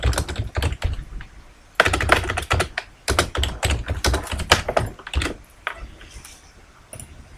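Rapid computer keyboard typing in bursts, dense key clicks with short pauses between runs, loud and close, no talking.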